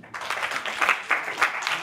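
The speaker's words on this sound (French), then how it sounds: "Applaudissez-vous." Crowd of newly graduated students applauding themselves at a ceremony, a steady wash of clapping with rhythmic surges, moderately loud and close, with no talk over it.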